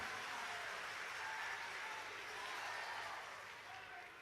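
Sustained audience applause fills a religious gathering in India, a dense, even wash of clapping that holds steady for several seconds before easing slightly at the close.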